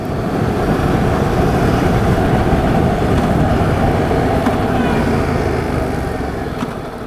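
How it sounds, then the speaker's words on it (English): A motorcycle downshifts quickly while slowing to a stop; the engine drones loud and close throughout, with a rough rumble that eases slightly near the end. "we're going to come up to the stop here. I'm going to downshift kind of quickly."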